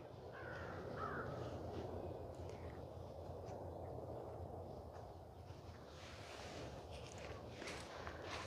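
Crows caw in an open park on a cool day, harsh calls scattered over steady outdoor ambience and footsteps, fairly distant.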